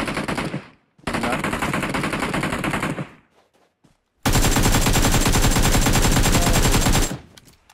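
Rapid automatic gunfire in PUBG Mobile, two long sustained bursts separated by a short pause, loud and close with no talking over them.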